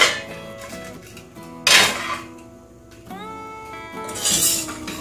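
A cooled pressure cooker is opened in a Kerala kitchen while making quail curry: metal clinks and scrapes of the lid and weight, with one louder clatter and some rattling near the end.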